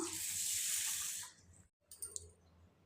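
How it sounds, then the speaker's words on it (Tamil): Tap water runs steadily while parboiled idli rice is rinsed in a vessel for corn idli batter, then stops, followed by a few soft clinks and splashes nearby, with no talk. "இதையும் கழுவி தண்ணி எடுத்துட்டு புது தண்ணி சேர்த்துடலாம்"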